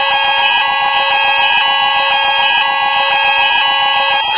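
A building fire alarm sounds continuously and loudly, a steady electronic tone with a repeating pulse roughly once per second, filling the whole stretch with no voices.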